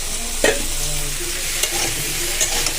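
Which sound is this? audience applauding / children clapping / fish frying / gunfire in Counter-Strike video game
fish frying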